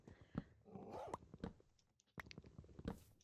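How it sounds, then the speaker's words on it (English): Wolf or dog noises from the video game Minecraft come as short scattered yelps and barks with brief pauses between them, fairly quiet and without speech. "I don't really like the new dog noises or wolf noises in Minecraft."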